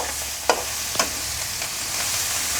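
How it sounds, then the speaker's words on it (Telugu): Tomatoes and coriander fry for a farm chicken dish in a steady sizzle, broken by a few sharp scrapes of stirring. "ఇవి బాగా గుజ్జుగా అయిందాక వేయించుకోవాలి"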